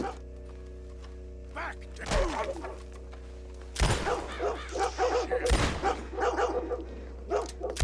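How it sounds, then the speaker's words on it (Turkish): A dog in Red Dead Redemption 2 barks in a few sharp bursts over a low steady game hum, with loud thumps and other game noise between the barks. "Köpek geliyor."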